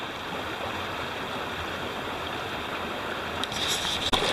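A high-country mountain creek partly blocked by fallen trees flows in a steady, continuous rush close by, with a couple of faint knocks near the end.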